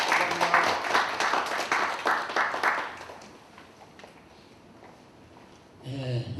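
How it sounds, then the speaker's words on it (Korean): An audience at a Korean traditional farmers' music (nongak) gathering claps in a lively burst for about three seconds. The applause then fades into near quiet before a voice starts speaking. "큰 박수를 좀 쳐주시면 감사하겠습니다."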